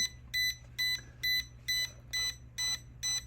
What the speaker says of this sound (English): And you hear these beeps, right?